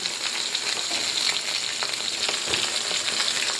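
Ginger pieces sizzle steadily in a hot pan while sambar is being made, a constant bright crackle of frying with faint stirring, close and even throughout.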